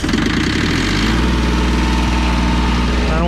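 A Yanmar 186D diesel loader tractor engine with the throttle at about half runs loud and close, a steady rumbling idle with a knocking pulse that holds throughout.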